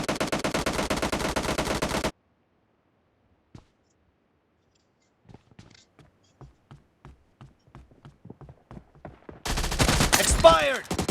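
Shotgun gunfire in the video game PUBG on the Livik map, with loud bursts of fire at the start, then a run of quick, sharp clicks and shots, ending in another loud burst of gunfire.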